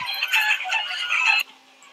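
A chicken in Minecraft Story Mode, a video game, gives a short run of close, bright clucks for about a second and a half, then falls quiet.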